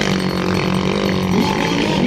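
A drone flies overhead at sea near a moving boat, a loud, dense buzzing drone blended with a rough engine-like roar, continuous and close for the whole stretch.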